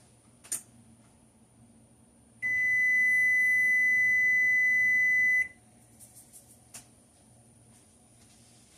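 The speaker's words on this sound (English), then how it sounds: "Okay, that was my oven going off." An oven timer beeps in a home kitchen: a short electronic tone at the start, then a loud, steady, continuous beep lasting about three seconds before cutting off, with quiet room noise and faint clicks around it.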